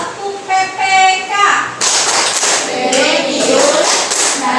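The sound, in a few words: class doing the Tepuk PPK clapping chant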